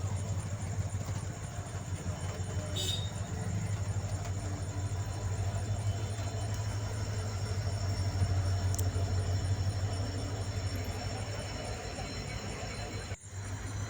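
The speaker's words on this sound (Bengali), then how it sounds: "এখন ট্রেন যাচ্ছে তাই গেট পড়ে আছে" A steady low rumble of a train rolling past nearby at a level crossing with the gate down, continuous throughout with a deep droning engine hum and a brief clack near the end.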